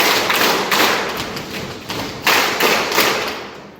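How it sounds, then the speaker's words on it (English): A group of youths at a youth program event clap together in loud, ragged bursts that stand out alone, with no talk over them. "Clap 3 for it"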